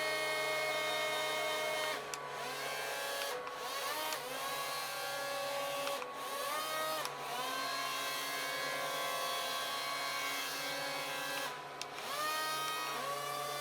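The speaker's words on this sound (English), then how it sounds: "Now I tried to run it on carpet, and there's just not quite enough air to run it on carpet." Small toy RC hovercraft, a Dawdix amphibious model, running on carpet, with a steady high whining fan and motor drone throughout and a few brief dips and rises in pitch as the throttle changes, close and loud with no talking.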